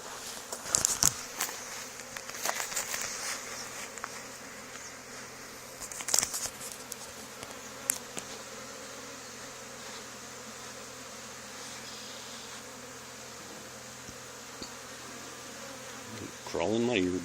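A honey bee swarm in an old barn hums as a steady drone, with sharp close buzzes of single bees passing by and a few soft bumps and shuffling footsteps.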